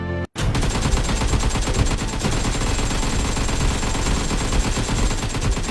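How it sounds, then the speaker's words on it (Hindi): Gunfire in the video game Free Fire, a dense, loud, continuous barrage of rapid shots after a brief pause at the start, with no talk. "इतनी सारी गोलियां चलने की आवाज नीचे से आ रही है।"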